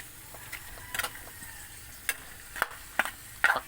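Dried fish (tuyo) is added to a pan of humba, braised pork, bringing a soft steady sizzle broken by several sharp clicks and scrapes of a utensil against the pan, close by with no talking.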